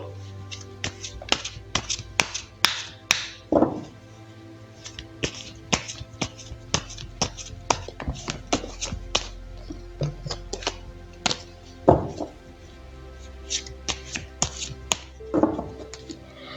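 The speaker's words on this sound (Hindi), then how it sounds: "तो चलिए पहले ज़रा कार्ड्स को शफल कर लेते हैं।" Tarot cards being shuffled by hand, a series of sharp, irregular snaps and riffles spread across the stretch, close and fairly crisp over a faint steady hum.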